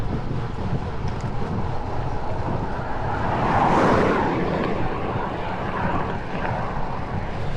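Steady wind buffets the microphone outdoors near wind turbines, a broad rushing roar that swells briefly midway with a passing airplane-like drone, continuous and loud throughout.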